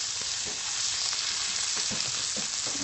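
Thin-cut sirloin sizzles in a hot pan, a dense steady frying hiss with faint scrapes and stirring clicks, close and continuous with no voices.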